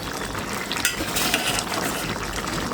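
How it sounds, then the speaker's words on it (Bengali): Shrimp curry with jackfruit being stirred in a pan after garam masala is added, giving a steady frying sizzle with a few soft scraping and clinking touches of the spoon, close and continuous, with no voices. "গরম মশলাটা দিয়ে নেড়ে ছেড়ে নেব"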